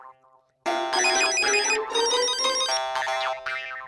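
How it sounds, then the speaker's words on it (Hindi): A phone ringtone plays a bright, repeating electronic melody, loud and close, after a brief quiet moment. "टप्पू का फोन तो उठा।"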